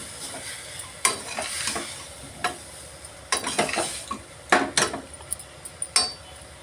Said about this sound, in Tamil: இப்போ ஒரு கிளறு.